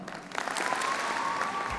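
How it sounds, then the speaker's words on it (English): A university convocation audience applauds together at a spring graduation ceremony, a dense, steady wash of clapping that rises after a brief start and holds at a fairly loud, sustained level. "Let's give you all a 2 clap."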